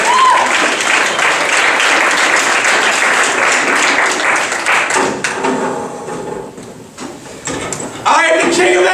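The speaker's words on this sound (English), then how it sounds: "Alright, have a good round of applause." An audience breaks into a loud, full round of applause that fills the room for several seconds, then tapers into scattered claps and thuds, with voices talking over the end before another burst starts.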